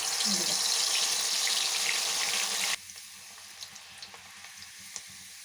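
Moong dal held in a tea strainer fries in hot oil with a dense, loud sizzle that drops sharply halfway through to a quieter crackle of scattered pops.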